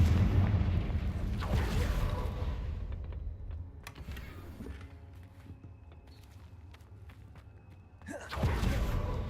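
A Confringo blasting spell goes off in Hogwarts Legacy: a loud burst at the start, scattered thuds and clicks through the middle, and another heavy blast near the end.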